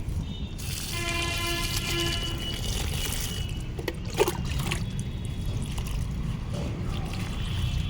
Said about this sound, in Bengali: যে কয়টা গাছের মাটি শুকিয়ে যাচ্ছে সেগুলোকে জল দিয়ে দিচ্ছি